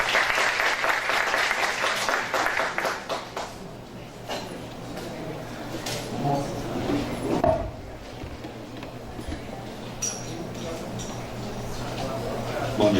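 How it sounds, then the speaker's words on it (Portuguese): Audience applause at a health sector conference in Cuiabá, loud and dense at first, then thinning and fading into scattered claps and room noise over about thirteen seconds. "Uma salva de palmas, por favor."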